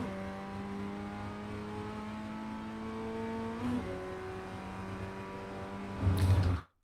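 The engine of an FF1600 race car in iRacing at Navarra Speed Circuit drones steadily at high revs, drops pitch with a brief blip as it shifts down, then roars up loudly near the end.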